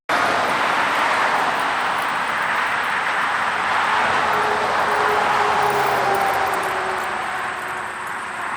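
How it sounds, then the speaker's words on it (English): A steady, loud engine roar from an M-35 military truck with its carburetor throttle stuck wide open, holding high revs for the whole stretch with a faint rising whine and a slight fade at the end. "I was able to start the truck up, and when it started up, it revved really high because the throttle stuck in its fully open position."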